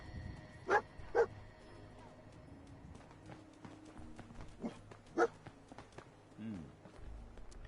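A dog barks in Fallout 4: a few sharp, separate barks, two close together early and one more later, over quiet game ambience with some soft footsteps.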